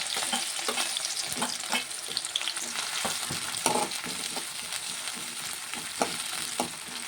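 Sliced onion and green chillies fry in hot oil in a pan, a continuous bright sizzle punctuated by frequent clacking stirs of a spatula, close and steady throughout.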